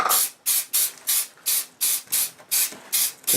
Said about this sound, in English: And then just give it a quick spray